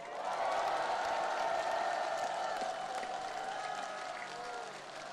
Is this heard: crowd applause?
yes